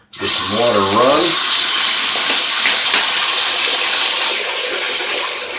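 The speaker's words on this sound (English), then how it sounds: "Get some water run." Water runs steadily from a bathroom sink tap as a broad, loud rushing stream that holds for several seconds, with a brief voice at the start, then eases off slightly near the end.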